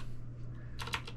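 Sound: typing a command on a computer keyboard

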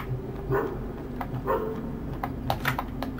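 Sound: dog barking in video game Graveyard Shift

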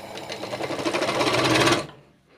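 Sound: sewing machine stitching a blouse waistband

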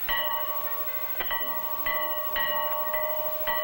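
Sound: dinner bell ringing on a farm

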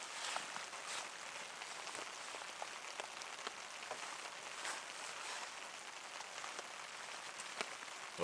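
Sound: rain falling at bushcraft camp

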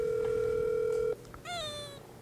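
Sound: telephone dialing tone

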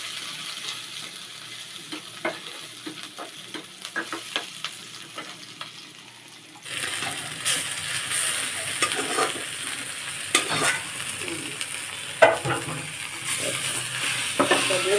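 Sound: garlic and green chili frying in pan

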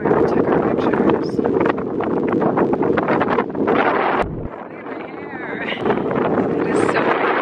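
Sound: strong wind blowing near Palm Springs windmills

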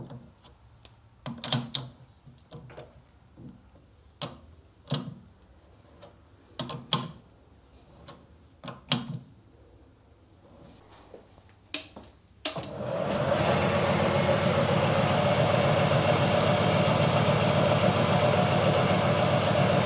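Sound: milling machine milling the edges of a metal plate

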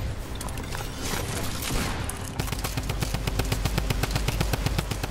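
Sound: gunfire in Fortnite video game

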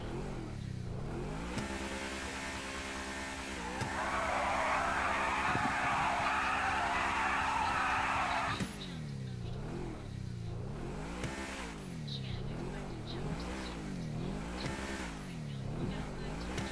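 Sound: Audi car engine revving and tires skidding in GTA 5 video game

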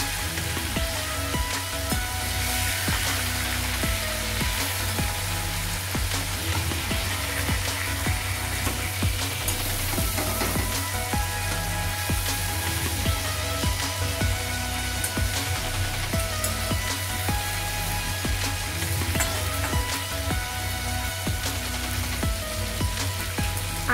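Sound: boal fish frying in a pan

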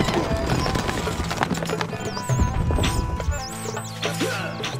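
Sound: horse hooves clip-clopping, from Stronghold Crusader video game

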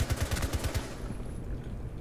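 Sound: gunfire in the video game Rainbow Six Siege

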